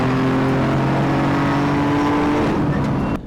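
Rally car engine in a sim racing game, a loud, close, harmonic engine roar holding steady under acceleration before the pitch drops and cuts off abruptly near the end.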